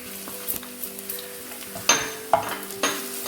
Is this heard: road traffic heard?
no